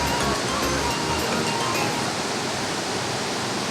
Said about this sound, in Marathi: एकदम डोंगरावरून खाली कोसळून पाणी नदीने खाली चाललं आहे